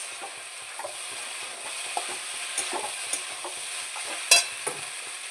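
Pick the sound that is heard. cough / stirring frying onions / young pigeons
stirring frying onions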